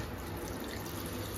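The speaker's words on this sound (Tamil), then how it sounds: "ஒரு லெமன் சைஸ் அளவுக்கு புளியை எடுத்து தண்ணியை ஊற்றி ஊற வச்சிடுறோங்க" Water poured over a lemon-sized lump of tamarind to soak it, a steady close splashing and trickling that runs for a moment with no talk.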